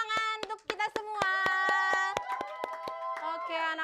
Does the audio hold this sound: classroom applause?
yes